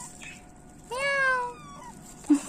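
One clear, drawn-out cat meow, close by, in an otherwise quiet room with a soft bump just after.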